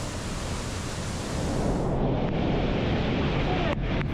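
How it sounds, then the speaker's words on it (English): A thunderous waterfall at a dead end in a canyon in Jordan roars as a steady, loud, broadband wash of falling water, constant and close throughout. "at that dead end is a thunderous waterfall"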